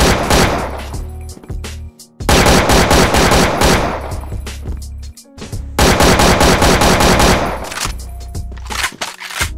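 Loud, rapid bursts of automatic gunfire from the shooter game CrossFire, three long sustained volleys separated by short pauses, close and dominant with no speech.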